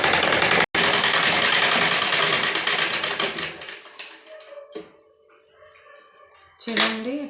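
Sewing machine stitching a blouse, a loud steady mechanical whir running for about four seconds after a brief cutoff, then winding down into softer handling noises and a short burst near the end.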